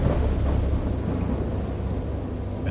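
A thunderstorm in the game Dagon: a steady, dense wash of heavy rain with a low thunder rumble that holds at even strength throughout, with no voices.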